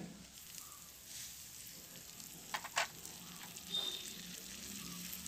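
Chopped onion and tomato sautéing in a pan, a faint, even sizzle with a couple of brief stirring clatters partway through.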